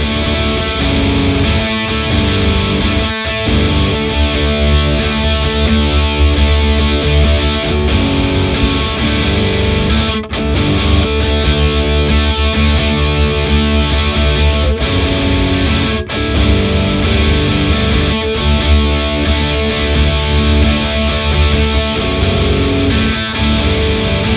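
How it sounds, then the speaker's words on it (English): Heavily distorted electric guitar through a Boss DS-1 distortion pedal playing a steady, punchy riff, loud and continuous with a few brief breaks between phrases. "a really nice punchy distortion sound that cuts through the mix"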